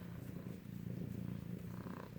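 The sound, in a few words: kittens purring loudly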